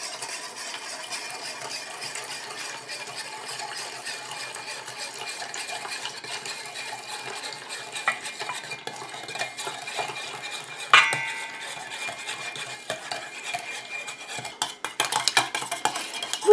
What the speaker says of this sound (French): je rajoute ma phase aqueuse tout en mélangeant